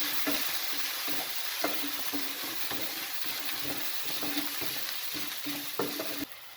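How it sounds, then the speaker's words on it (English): Ginger garlic paste sautés in a pan for a paneer dish, a steady close sizzle with repeated scraping stir strokes cutting through at irregular intervals. "I'm just going to saute this for a couple of minutes"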